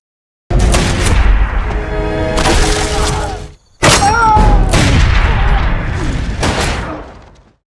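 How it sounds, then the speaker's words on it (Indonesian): Gunfire fills a film action scene in two long, loud sustained barrages of blasts and crashing impacts, broken by a brief near-silent gap, dense and close with no talk heard. "Setelah anak buah Delaru tewas, Delaru berhasil menembak John"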